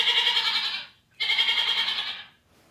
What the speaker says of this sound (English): That's right, it is a goat.